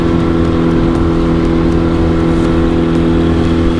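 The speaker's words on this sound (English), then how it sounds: "He has a 15 horsepower motor on his dinghy" A 15 horsepower outboard motor drives a dinghy, giving a loud, steady droning hum that holds at a constant pitch close by for the whole moment.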